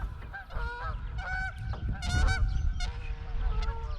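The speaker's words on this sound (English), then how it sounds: "Got some geese flying around." Geese honk repeatedly overhead, several calls overlapping in short bursts, moderately loud over a low outdoor rumble.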